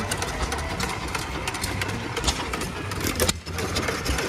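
A small tractor engine runs steadily at a county fair, a continuous close chugging with a brief dip near the end, set against outdoor crowd noise.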